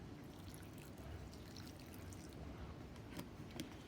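Banana water poured onto a potted money tree outdoors, a steady soft trickle and splash of liquid running into soil, close and continuous with faint background noise.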